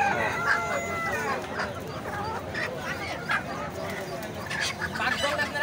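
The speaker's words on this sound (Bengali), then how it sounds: "এখানে মোরগ মুরগি সব রয়েছে" Roosters crow and chickens cluck repeatedly at a busy wholesale poultry market, several birds calling over one another amid steady crowd noise.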